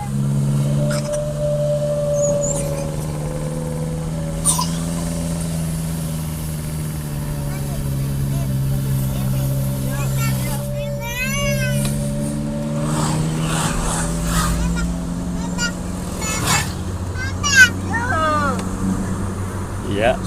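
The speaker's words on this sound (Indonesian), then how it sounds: "Tinggal satu lagi nih yang bunyi knalpotnya macam bunyi hantu ini" A passing vehicle's loud exhaust holds a steady low droning roar that rises and falls in pitch, with a voice talking over it throughout.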